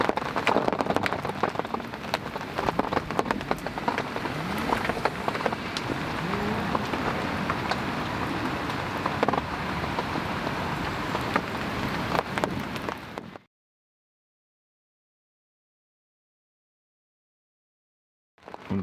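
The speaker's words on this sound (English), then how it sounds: "It was torrential rain." Torrential rain pours down at night beside a French lake, a dense, steady roar of drops hammering a surface, loud and close, continuing unbroken before cutting off abruptly into silence.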